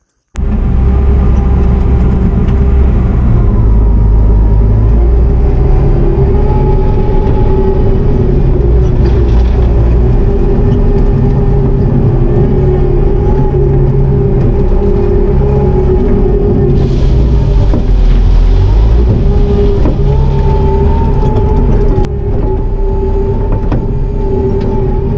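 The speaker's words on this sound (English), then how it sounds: "So I'll break out the skid steer and try to clean some of this" Bobcat T650 skid steer engine running steadily and loud, with a constant low rumble and a droning tone that shifts slightly in pitch, worked during a barn cleanup and gravel job; no talking.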